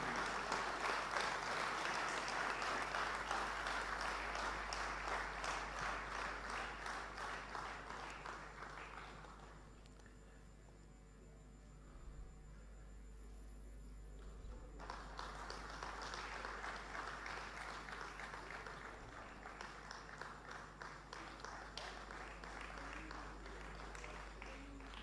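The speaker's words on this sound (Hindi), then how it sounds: "जोरदार तालियों से आइए इनका अभिनंदन करें" Audience applause at an award ceremony for sportspeople in Bhopal fills a large hall, loud and sustained, fading to a quieter lull midway before clapping swells again toward the end.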